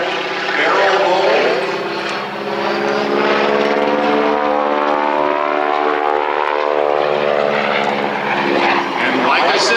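A Stearman PT-17 Kaydet biplane flies overhead at an air show, its radial engine and propeller giving a loud, continuous drone that rises and falls slightly as it passes through a barrel roll, with no pauses.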